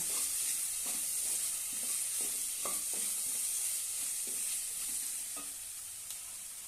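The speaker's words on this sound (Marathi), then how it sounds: "थोडासा गरम मसाला घालूया आणि छानपैकी परतून घेऊया" Onion and papad chutney with red chilli and garam masala sautéed in a pan, a steady hiss of frying under a slow rhythm of spoon scrapes and stirs.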